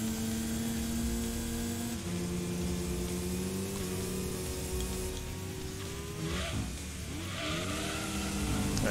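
Race car in the Gran Turismo 2000 PS2 video game accelerating and drifting, a steady loud engine drone with shifting pitch throughout and brief tyre-squeal textures midway.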